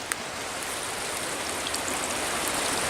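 Water flows steadily in a stream along a summer shale ridge trail, a continuous broadband rushing wash with faint droplet splashes, fairly close and unbroken with no voices.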